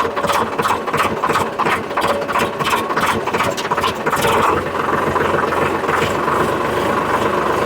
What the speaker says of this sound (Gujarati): હું ત્યાં ટ્રેક્ટર જવા દઉં છું ટ્રેક્ટરને સ્ટાર્ટ કરું છું